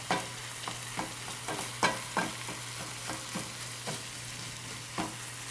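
Breakfast strata ingredients, seasoned with pepper, being stirred together in a bowl, a steady run of soft scraping and clinking strokes at close range with a faint steady hum behind and no talking.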